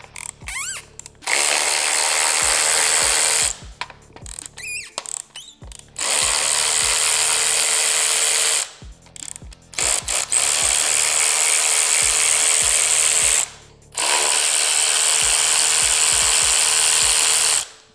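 A power tool drives out 3/16 hex-head bolts from a Harley-Davidson Softail motorcycle's air cleaner, running in three long loud bursts with short ratcheting pauses between them, close up and with no talk.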